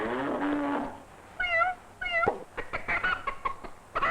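A cat meows from an old 16mm educational film, with a drawn-out cry at first, then a run of short, sharp clucking calls like a hen's cackle. The sound is thin and vintage-sounding, with no talking.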